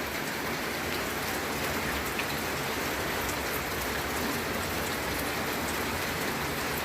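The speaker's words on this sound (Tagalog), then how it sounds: "Lagot ka pag hindi tumigil yung ulan na yan." Steady rain falls throughout, a dense even hiss of drops pattering on surfaces, with no voices.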